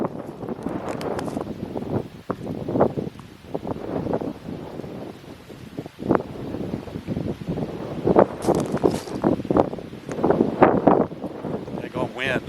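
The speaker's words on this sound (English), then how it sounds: "I hate fishing in the wind." Gusty wind buffets the microphone outdoors by the water during a solo woods trip, coming in uneven rumbling bursts that rise and fall throughout.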